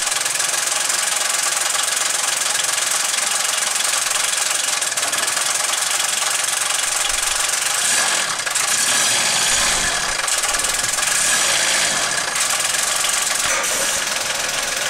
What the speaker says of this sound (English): you can hear the engine running. It's not running very good, but it is running.